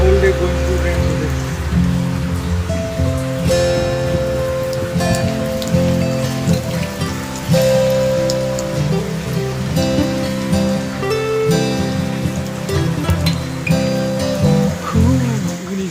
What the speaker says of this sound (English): Maybe whole day going to rain today.